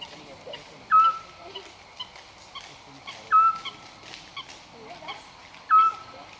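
A small owl gives a short, clear whistled note, repeated three times at steady intervals of about two and a half seconds against a quiet night background.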